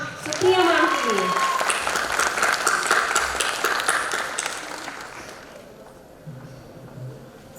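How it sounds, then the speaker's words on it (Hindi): Audience applause at a 75th Corps Day diamond jubilee celebration, loud sustained clapping from a crowd that fades out after several seconds, with a speaker's voice over the start. "तो एक बार जोरदार तालियां सुप्रिया मैम के लिए।"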